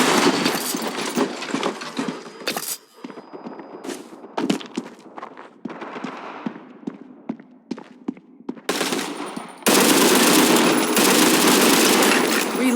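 An MG30 machine gun fires in the World War Heroes video game, loud bursts of rapid shots mixed with footsteps and other battle noises, ending in a long sustained stream of fire.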